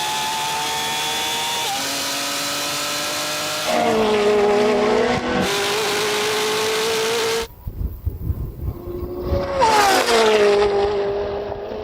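A Koenigsegg Jesko supercar accelerates hard in a drag race against a Lamborghini Revuelto and a 1,000hp BMW M3. It is a loud, continuous engine roar whose pitch climbs through gear changes, briefly drops off, then surges again.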